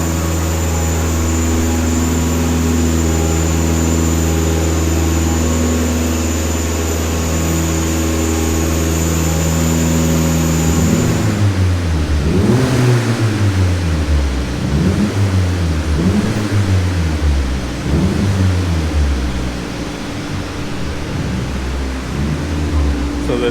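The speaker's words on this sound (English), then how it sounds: "Car sounds good." A 1.8T 20-valve turbocharged car engine with a GT30 turbo idles with a steady hum, then is revved repeatedly in a series of rising and falling surges, close and loud.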